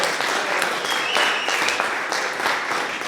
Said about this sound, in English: If anybody wants to clap for Greg.